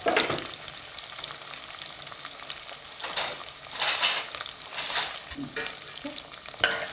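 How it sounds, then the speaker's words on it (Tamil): Green chillies and curry leaves fry in hot oil in a home kitchen, a steady sizzle punctuated by louder crackling bursts and stirring scrapes, with no talking. "அப்புறமா கொஞ்சமாக வந்து கருவேப்பிலை எல்லாத்தையும் போட்டு நல்லா வந்து ஃப்ரை பண்ணணும், வதக்கிக்கலாம்."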